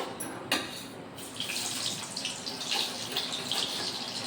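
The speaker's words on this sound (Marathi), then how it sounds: "तर तेल गरम झालं आहे, कांदा सोडून देऊया." Onion is dropped into hot oil in a pan, giving a sharp initial splash followed by a steady, fairly loud broadband sizzle that carries on unbroken.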